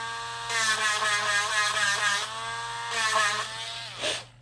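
A Dremel rotary tool grinds in two short bursts, a high, whining buzz that rises and dips in pitch as it bites the work, close and fairly loud over a faint steady hum.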